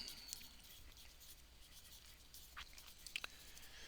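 A pen scratches quietly across paper while notes are written down, with soft, faint strokes and a few small taps near the end.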